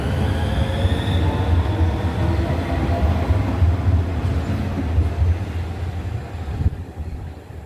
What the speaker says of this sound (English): So yeah, I'm going to watch this train depart and I'll give my final thoughts.